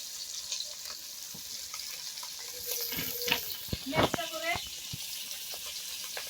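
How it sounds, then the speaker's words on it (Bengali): Fish fries in a pan over a village stove, a steady close sizzle with clinks and scrapes of a utensil, while a voice briefly murmurs near the end. "মাছ ভাজা হয়ে গেছে"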